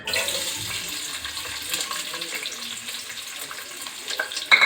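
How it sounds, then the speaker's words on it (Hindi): Two chopped onions dropped into hot oil for a vegetable pulao, giving a steady bright sizzle and crackle that stays even throughout, close and alone. "और अभी हमारा ऑयल गर्म हो चुका है। तो अब हम इसके अंदर डालते हैं प्याज, 2 अदद प्याज कटे हुए।"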